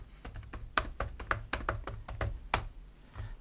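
Quick, light clicks of typing on a PCSpecialist Elimina laptop's membrane scissor-switch keyboard, with irregular close taps and a few firmer keystrokes, heard alone.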